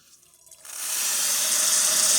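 Hot water streaming from the steam wand of a serviced Lelit Mara X espresso machine, starting abruptly after a quiet moment and settling into a steady, loud hiss that stays constant to the end.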